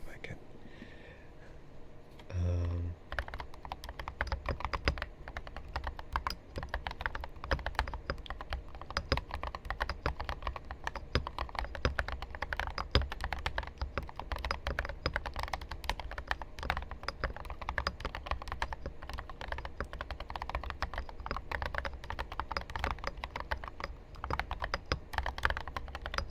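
Steady, close keyboard typing on a computer keyboard runs continuously, a dense patter of soft clicks in a quiet, whispery setting, with a short muffled handling bump near the start.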